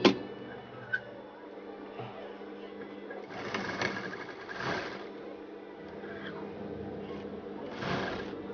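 A sewing machine stitches piping with a steady, close, mechanical whir, rising in short bursts, with a few clicks and a faint voice in the background.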